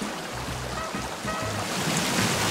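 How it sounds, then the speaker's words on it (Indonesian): Waterfall in the survival game Sons of the Forest, a steady broadband rush of falling water, loud and continuous with a slight swell toward the end, no voices. "Berisik tapi air terjunnya, jangan di sini dah."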